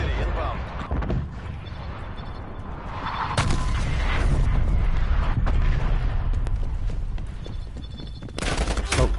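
Artillery strikes and gunfire fill a Call of Duty Cold War match, a dense, continuous roar of rapid shots and booming blasts with a swelling rumble in the middle, loud and close.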